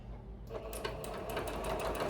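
Sewing machine stitching a quilt border, a steady close whirring hum with rapid needle ticking that runs continuously after a brief quiet start.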